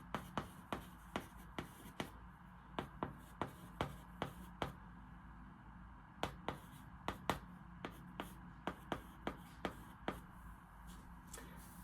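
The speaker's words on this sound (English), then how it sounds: "And I'll write that out here." Writing on a board while working a trigonometry equation produces a quick series of sharp, close taps and strokes in irregular bursts, with long pauses between them.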